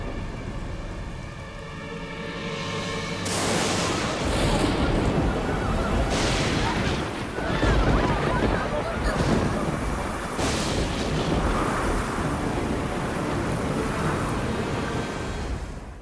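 A violent storm roars with heavy, continuous rain and deep rumbling thunder bursts, loud and close throughout, rising sharply after a quieter start.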